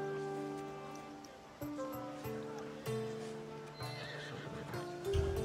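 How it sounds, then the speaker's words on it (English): Horse in Assassin's Creed Odyssey, quiet but clear: a drawn-out whinny and neighs with steady clip-clopping hooves beneath, plus faint ambient game sound, with no voices present. "That's a nice horse, Socrates. It's a very nice horse. A sturdy horse."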